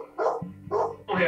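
A dog in Colombia barks three times in quick succession, each bark loud and close with brief gaps between them.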